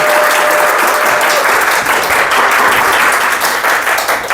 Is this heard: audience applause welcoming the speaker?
yes